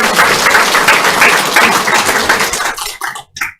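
A church congregation claps to welcome back a returning member, a dense, steady burst of applause that thins into a few scattered final claps before stopping.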